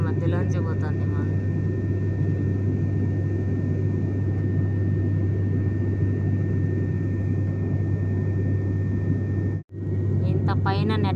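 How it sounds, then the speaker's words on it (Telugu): A steady, loud engine drone and rumble fill a small airplane cabin cruising through clouds, unbroken except for a brief dropout near the end, with faint voices at the start and finish. "మేఘాల మధ్యలోంచి పోతుంది విమానం."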